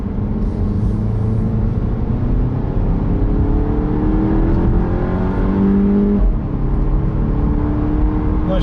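Four-cylinder Volkswagen Golf engine pulling hard through the gears, a steady loud drone rising in pitch with a quick drop at an upshift before climbing again, heard from close by with no talking.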